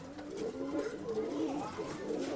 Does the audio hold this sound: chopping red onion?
no